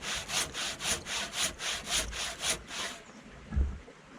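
A large-toothed handsaw cuts through wood in about ten steady rhythmic strokes, each a raspy broadband rush, close and fairly loud, before the sawing stops and a soft thud follows.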